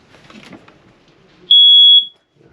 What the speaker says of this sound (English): Right above our heads is our smoke detector.